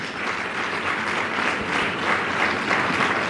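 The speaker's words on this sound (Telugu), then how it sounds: "అందరం ఒకసారి చప్పట్లు కొట్టి దేవుని స్తుతి" Steady applause from a church congregation, many hands clapping continuously throughout without a break, fairly loud and close.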